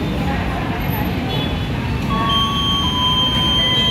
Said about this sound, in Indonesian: Suara apa tuh dari mesin pintu masuk?